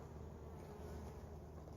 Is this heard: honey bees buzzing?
yes